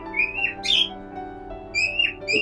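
A small bird held in the hand for eye drops against an eye infection gives a few sharp, rising chirps and whistles, close and clear over a low steady hum.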